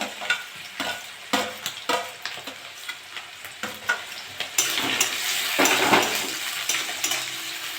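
Chopped onion and green chili fry in hot oil in a pan for chow mein. Sharp spatula stirs scrape rhythmically over a steady sizzle, and the frying grows louder and denser partway through. Close and with no voices.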